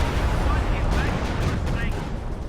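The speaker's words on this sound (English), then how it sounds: "I heard another stupid barrage" A Katyusha rocket barrage in Company of Heroes 2 rumbles as a dense, continuous roar of distant blasts and launches, steady and loud throughout, with someone talking over it.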